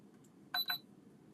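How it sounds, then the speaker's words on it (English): A Stampin' Up Hot Foil platform gives two quick electronic beeps in close succession, clear and bright over a quiet room hum. "the platform beeps and all the lights briefly flash"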